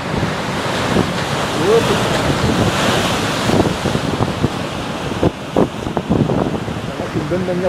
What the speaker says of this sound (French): Voilà, ok on retourne aux vagues